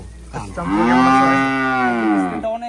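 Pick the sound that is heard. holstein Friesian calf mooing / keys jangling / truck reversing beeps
holstein Friesian calf mooing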